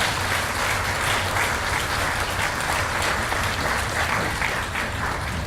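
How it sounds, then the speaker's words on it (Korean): Steady, dense applause from an audience at a mayoral candidates' social welfare policy forum for a local election, sustained at even loudness from start to finish with no talk over it. "세 분을 위해서 다시 한번 큰 박수로 환영해 주시기 바랍니다"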